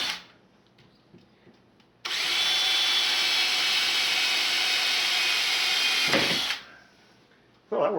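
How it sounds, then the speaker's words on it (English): Power drill boring through the sight block of a generic recurve bow, held in a clamp: a steady, loud whine of about four seconds that starts abruptly and cuts off, with quiet handling sounds before and after. "now I'm going to see if I can drill through this"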